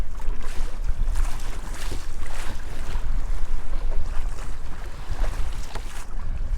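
Strong wind gusts roar and buffet near the Golden Gate Bridge at a rocky coastal corner, a loud, constant rumbling rush with faint surf-like washes running throughout.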